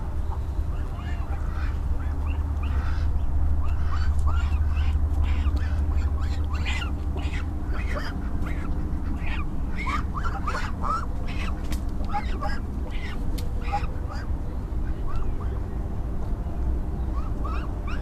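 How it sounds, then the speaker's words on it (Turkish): Geese in a rural village give repeated honks and calls over a steady low outdoor rumble, near to mid-distance, with a faint voice now and then. "Dışarıda da kazlar var."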